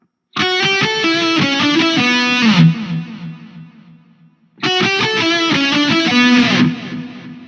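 Distorted electric guitar plays a riff in two loud, busy phrases of rapid picked notes, separated by a short decaying pause.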